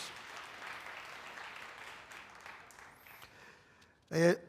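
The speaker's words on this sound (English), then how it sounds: "I would like to ask for them for a welcoming round of applause" An audience gives a welcoming round of applause at a Panama Canal conference; soft, steady clapping thins out, and a brief voice and sharp sound close the moment.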